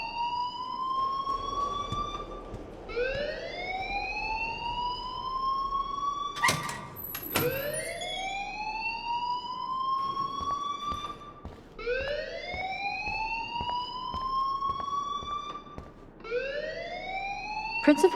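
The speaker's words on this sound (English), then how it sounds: "please turn off that alarm since that's your job" A school alarm in the game Life is Strange rings in repeated rising electronic sweeps, each whoop climbing in pitch and restarting every few seconds, loud and continuous with faint background clatter.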